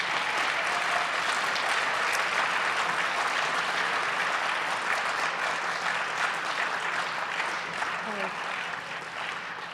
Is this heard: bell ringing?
no